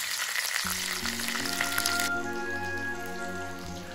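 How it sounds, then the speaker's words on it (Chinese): Pork belly frying in a pan gives a dense, crackling sizzle that fills the first half, then softens to a quieter spitting as low tonal hum and clunks sound underneath. "随着时间的流逝，五花肉一面已煎至金黄"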